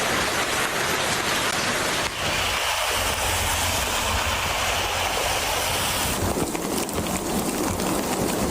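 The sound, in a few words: rain showers in Karachi, first winter rain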